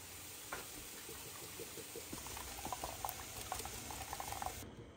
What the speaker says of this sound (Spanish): Ya tiene ratito hirviendo y no va a espesar.